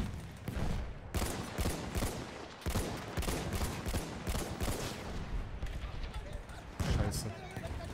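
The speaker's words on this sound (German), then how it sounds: "Oh, schon wieder Artillerie, Mann." Battlefield 1 artillery fire comes as a dense, continuous barrage of booming blasts and crackling gunfire, with loud impacts around the 1, 2.7 and 7 second marks, all mixed into a busy battlefield din.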